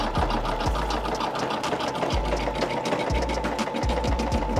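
A Brother SE600 embroidery machine stitching a design onto a hat hums and clatters steadily at close range, with rapid repetitive needle thumps throughout.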